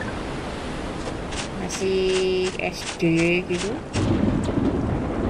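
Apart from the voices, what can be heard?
rain and thunder in Harvest Moon: Home Sweet Home video game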